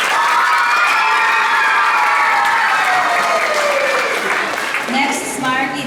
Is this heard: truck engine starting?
no